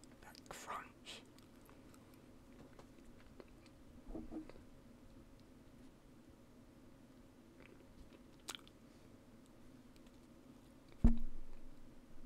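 Crunchy bread being chewed close to the mic in a quiet room, with a few soft bites and crunches spread out and one sharper, louder crunch near the end.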